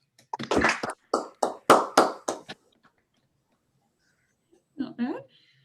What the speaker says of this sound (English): So let's try doing applause again, everyone.